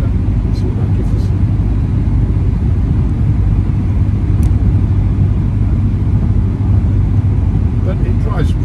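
A VW Scirocco 2.0 GT with DSG gearbox drives along, giving a steady, deep engine and road rumble from inside the cabin that stays even and unbroken throughout.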